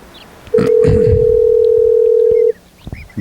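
A phone call tone holds steady for about two seconds on an outgoing call to a woman. Brief clicks and rustling come just before it, and faint noises follow.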